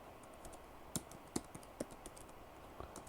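Quiet typing on a computer keyboard, a handful of sharp irregular key clicks with a few louder strikes, close and alone without talk.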